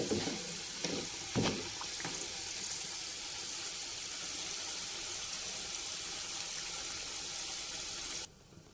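Capsicum frying in a pan in a village kitchen, a continuous loud sizzle with a few sharp clinks of stirring near the start, holding steady until it cuts off abruptly near the end.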